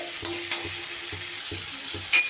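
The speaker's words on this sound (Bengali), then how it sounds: "এবার একটু কষিয়ে নেব সুন্দর করে মশলার সাথে মটরশুঁটিটাও একটু কষিয়ে নিতে হবে" Green peas and spices fry in a pan with a continuous close sizzle, broken by regular scraping strokes of a spatula stirring the mixture, no voices heard.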